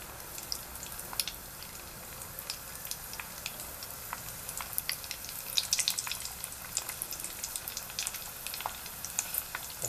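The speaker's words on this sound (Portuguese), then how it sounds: "Agora vamos colocar as nossas peles para fritar." Pork skins crackle and pop steadily in very hot fat while turning into crispy pururuca, with a dense, continuous spatter of sharp bursts over a low sizzle, close by and with no talking.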